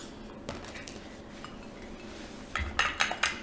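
A cutting board is handled in a travel kitchen, with a few scattered clinks early on and then a cluster of sharper knocks and clatters near the end, close and fairly quiet.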